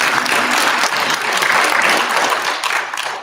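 An audience at a pop culture expo panel claps steadily in a dense burst of applause, loud and sustained for a few seconds before beginning to fade.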